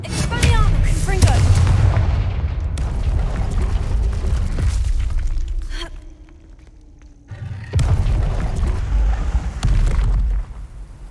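The Confringo blasting spell goes off in Hogwarts Legacy, heavy booming blasts and rumbling impacts, loud and close, with a brief quieter lull before another surge of explosive noise; a voice speaks over the start.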